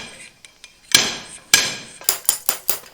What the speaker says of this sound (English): I'm going to use a wood block and a hammer